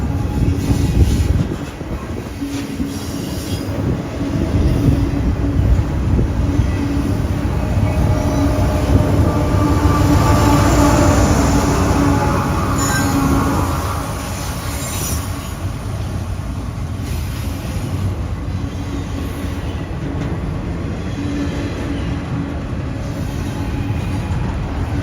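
An Evansville Western regional freight train, part of the Paducah and Louisville Railway around Evansville, Indiana, rumbles past with steady wheel clatter and rail noise, swelling loudest in the middle before easing to a continuous roll.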